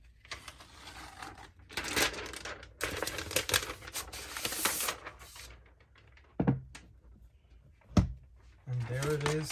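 Protective film being peeled off a new 2021 MacBook Pro 16-inch M1 Max during unboxing, a close crackling, ripping rasp in several bursts, with a few sharp clicks and a voice briefly at the end.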